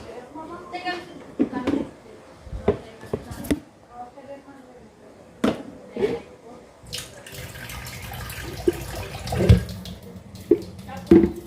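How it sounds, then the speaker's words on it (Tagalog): Water being poured into a cooking pot of chicken sinigang, heard in splashy, uneven bursts amid kitchen clatter, with a person talking between pours. "Lalagyan natin siya ng tubig."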